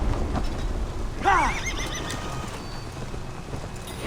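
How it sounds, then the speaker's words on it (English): A horse in Assassin's Creed Valhalla lets out one loud, clear whinny partway through, over a steady bed of game ambience and soft hoof movement. "Yeah, spirit can ride a horse."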